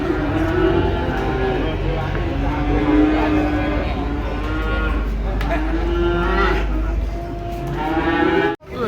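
Cattle mooing loudly and close by as they are unloaded from a truck, several long drawn-out lows one after another, with a low rumbling background.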